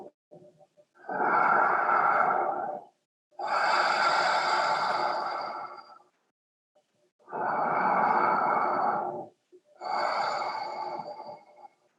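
Four long, loud breaths drawn in and pushed out through the mouth during a guided breathing exercise, each whooshing burst lasting about two seconds with brief silent pauses between them.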